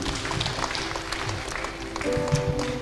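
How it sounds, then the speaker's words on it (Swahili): A church congregation gives a round of applause, a steady wash of clapping from many hands that carries on for a few seconds, fairly distant and even. "Mpigieni makofi mazuri."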